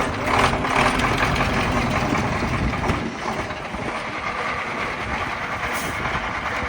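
Construction machinery engine runs at a Ukrainian pipe-laying site, a loud, close, steady diesel rumble that eases slightly partway through and continues unbroken, with no talk.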